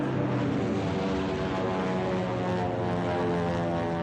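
Several P-36 propeller fighter planes drone overhead in a 1956 film scene, a loud steady engine hum with layered propeller tones holding throughout, without speech.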